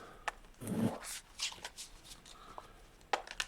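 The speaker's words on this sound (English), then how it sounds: "Give us a really good shuffle." A deck of playing cards is riffled and shuffled at a table during a tabletop card game, crisp papery bursts close by with a few taps, no one talking.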